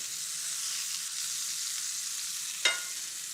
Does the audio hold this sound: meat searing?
yes